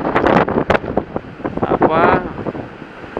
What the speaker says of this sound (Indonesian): Di saat ini angin berhembus dengan sangat kencang